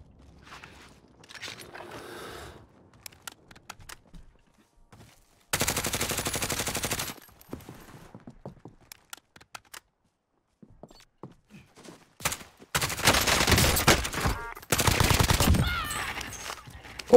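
Automatic Uzi fire in a Call of Duty Warzone match, with several loud sustained bursts of rapid shots between quieter footsteps and mechanical clicks.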